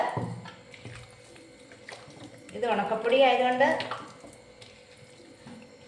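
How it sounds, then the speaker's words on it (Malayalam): Water is poured into dry rice flour for soft vattayappam batter and stirred in, giving soft sloshing and mixing sounds under a person talking. "ഇനി നമുക്കിത് പാകത്തിന് വെള്ളം ഒഴിച്ച് കുറച്ചൊന്ന് ലൂസായിട്ടൊന്ന് കലക്കിയെടുക്കണം"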